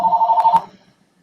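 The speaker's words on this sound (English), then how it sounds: "I hear a phone ring." Electronic telephone ring heard as a single steady warbling burst lasting about half a second, then cutting off into near silence.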